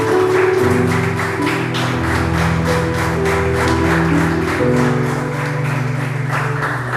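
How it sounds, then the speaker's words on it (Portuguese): A church congregation claps in a steady rhythm over sustained organ or keyboard chords. The clapping is loud and even and runs throughout under the music. "Aplauda o nome do Senhor Jesus"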